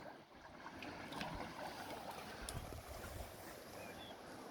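Flood water of the Orange River runs past an old pump station, a continuous faint wash and rush with gusts of wind noise across the microphone.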